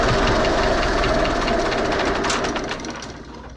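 A Zetor 6718 tractor engine runs loudly with a rough, knocking diesel clatter, holding steady before easing off toward the end.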